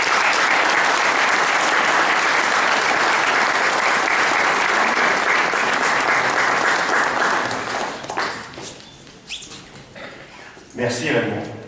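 Audience applause for Jean-Michel Lys at a humanitarian and philanthropic merit presentation, a dense steady clapping that fades out after about eight seconds, with a few scattered claps and some voices near the end.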